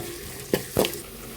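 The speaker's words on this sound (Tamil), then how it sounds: "வெங்காயம் எண்ணெய் ஊற்றி வெந்தயம் போட்டு வெங்காயத்தை வதக்கிட்டு இருக்கோம்" Onions and fenugreek fry in oil in a home kitchen, with a steady low sizzle. Two brief scraping stirs sound close by over the sizzle, and nobody speaks.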